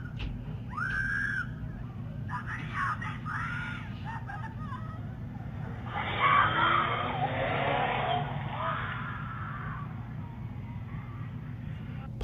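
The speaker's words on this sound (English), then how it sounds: "The screaming is followed by a white vehicle speeding down the street with the trunk open" Screaming carries from a white car speeding down a residential street with its trunk open, caught on a doorbell camera; a shrill, distorted cry rises over steady road and engine rumble before a louder rushing pass.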